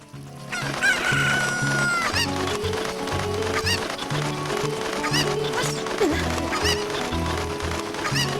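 Chickens in the Zelda: Ocarina of Time video game cluck and crow repeatedly in a busy, looping game soundscape, with sharp squawks and honking calls standing out over a rhythmic low musical background, loud and up close.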